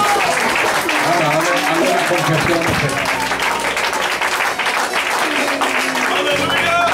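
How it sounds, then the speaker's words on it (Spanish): A church congregation at an evangelical preaching and ministry service claps loudly and continuously, the applause mixed with a voice and tonal music throughout. "Dale un aplauso fuerte."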